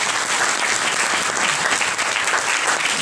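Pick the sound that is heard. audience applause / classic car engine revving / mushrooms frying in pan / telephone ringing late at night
audience applause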